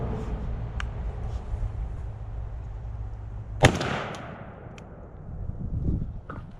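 A Browning Maxus shotgun loaded with 3-inch Winchester 00 buckshot and a Rectifire choke fires a single loud, sharp blast outdoors at a cardboard target 40 yards away, the report decaying over a low steady background rumble.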